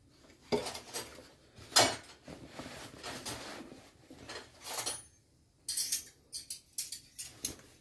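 Spoons and dishes clink and clatter close by in bursts while tiffin and lunch are prepared, with brief quiet gaps between sharp metallic knocks and scrapes.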